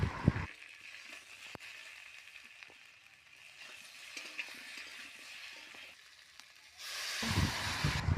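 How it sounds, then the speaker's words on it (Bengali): Gentle sizzling of potatoes frying in a pan with onions, steady hiss with light stirring clicks, growing louder near the end. "হালকা আলু ভেজে নিয়ে লবণ দিলাম।"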